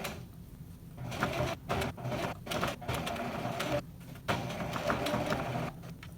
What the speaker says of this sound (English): Couple stitches forward, couple stitches backward